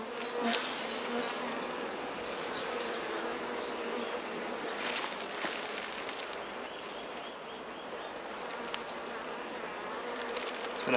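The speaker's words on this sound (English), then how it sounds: "these bees are working." Honey bees swarming around an open hive frame during a transfer from a nuc box into a full-size hive, a dense, continuous buzz that stays even and close for the whole stretch with no talk over it.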